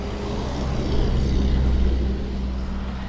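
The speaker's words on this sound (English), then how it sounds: "I think that was a FedEx truck." A FedEx delivery truck passes near an outdoor campsite where a tent is being taken down. Its steady low engine rumble swells slightly in the middle and then eases off, with no talking.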